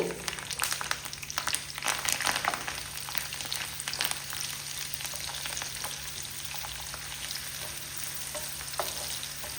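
Sliced onion and curry leaves fry in a tablespoon of hot ghee for a chicken dish, giving a loud, dense, crackling sizzle close by with stirring scrapes and no speech.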